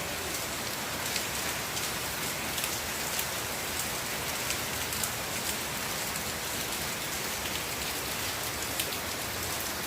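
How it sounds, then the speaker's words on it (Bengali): Heavy rain pours down in a dense, unbroken roar, with individual drops pattering loudly on nearby surfaces. "কেমন বৃষ্টি নেমেছে ভালো বৃষ্টি হচ্ছে"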